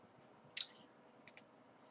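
Two quiet, close computer mouse clicks about a second apart, each a quick double tick, against a faint background hiss.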